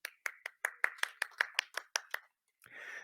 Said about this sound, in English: Thank you for clapping for me with my prompting clap